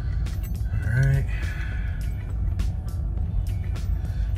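A car engine idles steadily after a throttle body cleaning, a low continuous rumble with a brief tonal whine early on and occasional faint clicks, close and fairly loud.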